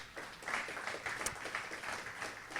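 A church congregation claps in a steady patter of applause, moderately close, with a few voices mixed into the clapping.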